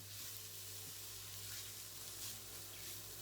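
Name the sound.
spices frying and being stirred in a pan for curry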